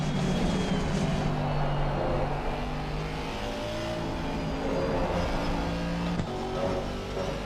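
A GT3 race car engine in the Assetto Corsa Competizione racing game holds a loud, steady, close drone on a lap, with its pitch rising and falling slightly as it revs. No one speaks.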